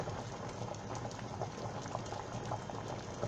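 Steady bubbling and rolling of water boiling in a pot, a continuous dense burble close by with no voices.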